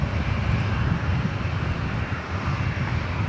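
A French Air Force aircraft passes over Brisbane International Airport, a steady loud engine roar filling the whole stretch without a break, close and unaccompanied by talk.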